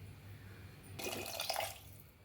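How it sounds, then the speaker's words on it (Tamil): Water poured into lentils in a cooking pot for a village-style cabbage kadayal, a close, soft splashing pour lasting under a second with no talking. "பருப்பு முழுகிற வரைக்கும் தண்ணியை சேர்த்துக்கலாம்"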